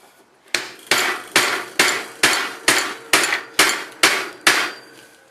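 A steady series of ten loud metallic hammer taps on a Nissan Patrol radius bush, evenly spaced with short ringing decays, heard up close and alone.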